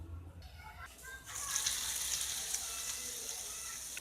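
Batter-coated chicken pakora pieces go into hot oil. After a second of near quiet, a steady bubbling sizzle rises and holds at a soft, close level.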